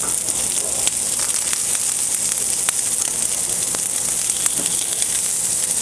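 Crab cakes searing in a skillet, giving a constant close hiss of frying oil with scattered small pops and crackles, steady and unbroken, with no talking over it.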